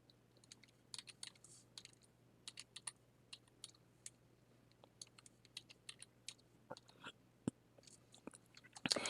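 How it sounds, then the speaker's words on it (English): Quiet, close keystrokes tap on a computer keyboard in irregular bursts over a faint steady hum, with a slightly louder cluster of clicks at the very end. "you're going to start typing"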